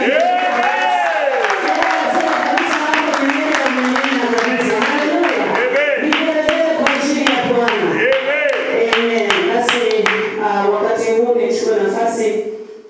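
A church congregation claps together to welcome a bishop as a special guest, loud rhythmic hand claps running steadily throughout while a voice sings or speaks over them.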